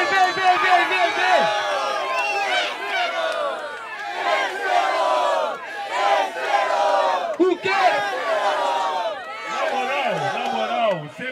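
Rap battle crowd at a semi-final event roaring, shouting and chanting continuously, loud and dense, with an MC's amplified voice hyping them over the noise.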